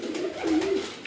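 Pigeons cooing in a breeder's loft room: a single soft, throaty coo rolls close by, brief and low, with no voices over it.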